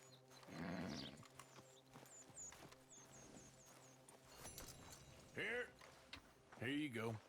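A Shire horse in Red Dead Redemption 2 clip-clops along in a loose rhythm, with a few whinny-like calls and game voices talking over the hoofbeats.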